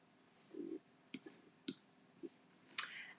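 Computer mouse clicks during a design session for ScanNCut gift tags, several quiet separate clicks spread unevenly over a few seconds in a quiet room.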